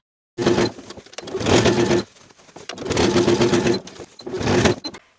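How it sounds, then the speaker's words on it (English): A sewing machine edge stitching fabric runs in three long bursts of rapid stitching, separated by short pauses, close and loud. "I'll take it to the sewing machine and edge stitch close to the upper inner fold all the way around"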